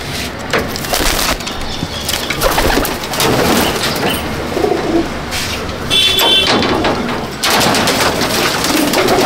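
Loud, close cooing from home-flown pigeons in a loft, the birds' calls continuous and mixed with rustling and scraping of wood, no voices present.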